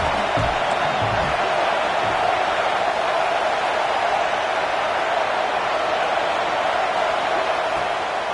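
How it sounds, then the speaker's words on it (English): Stadium crowd at a Washington vs Michigan football game roars steadily for the defense on a third down, a dense, loud wall of cheering that barely changes from start to finish. "Big 3rd down as the crowd gets behind this defense."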